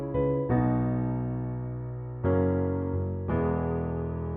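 A short chord progression on a MIDI keyboard with a synth tone, three sustained chords struck at a moderate pace, each ringing and slowly fading before the next, played alone with no voices.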